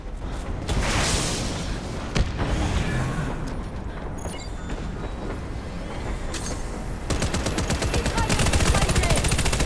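Machine gun fire in the video game Warface, loud bursts of gunfire with sharp cracks through dense battle noise, growing into a steady rapid rattle toward the end.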